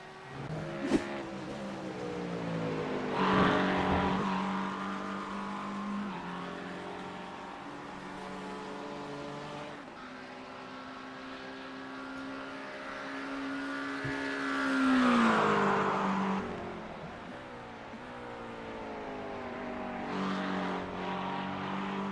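GT3 race cars, a McLaren among them, scream past at Monza, engines revving up and down through gears, with two loud swelling passes over a steady roar of the field.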